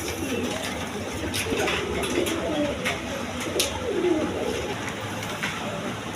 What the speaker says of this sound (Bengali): এক পেয়ার রেড কালার বোম্বাই কবুতর আছে